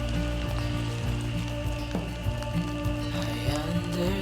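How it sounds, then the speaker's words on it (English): Steady rain falling on a surface outdoors during a van-life outing, a dense, even patter of drops with scattered sharper taps, close and continuous without speech. "It's raining."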